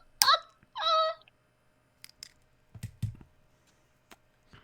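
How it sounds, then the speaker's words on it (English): A hungry domestic cat gives two close, clear meows in quick succession, followed by scattered soft clicks and faint low thumps in an otherwise quiet room. "Hungry cat."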